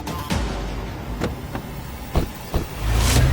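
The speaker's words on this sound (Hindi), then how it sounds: "अपनी कार लेके रेलवे स्टेशन की तरफ बढ़ती है" A car heads off toward a railway station, its engine a steady low rumble with a few sharp thumps and bursts, building louder near the end with no voices.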